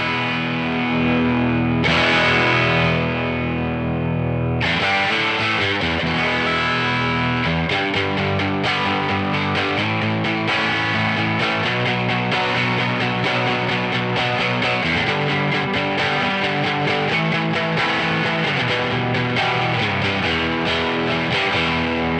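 Two amp models and an overdrive in Genome v1.7 drive a distorted electric guitar through a 4x10 and 1x10 cabinet blend, strummed chords ringing continuously and loudly with no talking.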